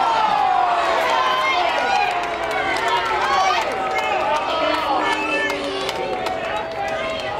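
Baseball stadium crowd at a Reno Aces game reacting to an umpire's call, a dense continuous roar of many voices with whistles and shouts, steady and loud throughout.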